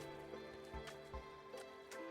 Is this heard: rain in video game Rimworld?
yes